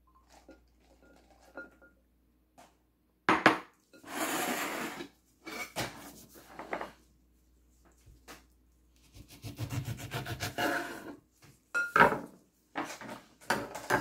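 Chickpeas drop and rattle into a salad bowl in a few separate pours, with scraping and rubbing of a spoon against the bowl between short quiet gaps, close up.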